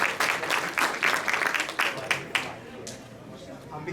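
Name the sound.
audience applause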